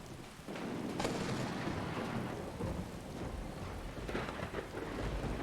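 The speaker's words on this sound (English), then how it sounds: "This heavy downpour and thunderstorm is very thematically appropriate." Heavy downpour and thunderstorm in the Skyrim video game: dense, constant rain hiss with rolling thunder rumbles swelling at intervals, loud and immersive, no voices.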